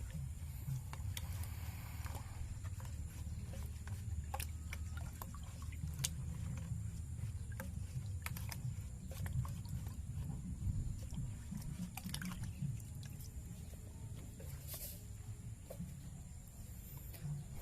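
Sugar being stirred into a manure fermentation mixture: continuous wet, squelchy scraping and patting with scattered sharp clicks, close and moderately quiet, with no talk.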